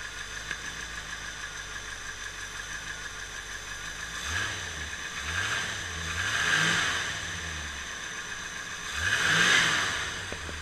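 1985 Corvette with a 383 engine at 10.5:1 compression, chugging at high idle, then revved in several short bursts that rise and fall, close and fairly loud.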